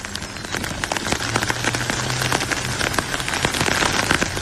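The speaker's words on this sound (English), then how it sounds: "this is a sound effect of what it sounded like in our boxes last night" Rain pattering on tents overnight, a dense irregular patter of drops tapping close by, steady and fairly loud with no voices.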